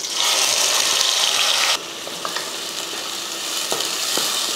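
Ground shallot paste, about 150 grams, is sautéed in hot oil with curry leaves for mutton kulambu, starting in a loud, dense sizzle that drops to a softer steady fry with a few clinks from stirring.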